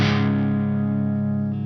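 Electric guitar played through a Marshall JCM800 Zakk Wylde signature single-channel amp, one heavily distorted chord struck and left to ring loud and sustained before fading slightly.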